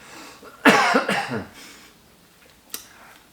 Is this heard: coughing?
yes